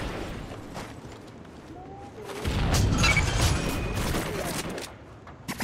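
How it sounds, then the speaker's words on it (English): A shotgun firing slug rounds in Call of Duty: a burst of heavy booming gunfire swells in the middle of the stretch, over quieter in-game background noise. "what is with the shotgun and the slug round today?"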